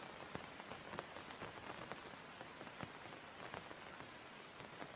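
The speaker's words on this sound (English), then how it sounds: "She likes the sound of the rain against her coat." Steady rain patters on a coat and surrounding leaves in a yard, a dense, even hiss of drops with scattered sharper close taps throughout, constant and moderately soft with no voices.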